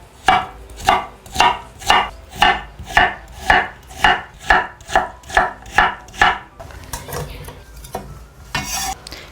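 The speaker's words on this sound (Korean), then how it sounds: "요거를 채 썰어 주시면 돼요." A knife julienning peeled potatoes on a cutting board, about fifteen crisp evenly spaced chops in a steady rhythm, close and clear, then a few softer scraping and handling noises.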